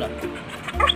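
A dog gives a short yip or whimpering bark near the end of a brief, noisy indoor moment after being urged to bark, with faint background hum throughout.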